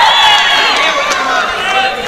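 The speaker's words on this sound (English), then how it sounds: "A couple of shouts of "Come on, Aaron!" coming from this local crowd" A local crowd at a taekwondo match shouts and cheers in a loud, sustained roar, with voices rising and falling together in an indoor arena.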